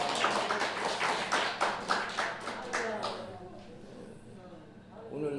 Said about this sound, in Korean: 박수 한번 쳐주시겠습니다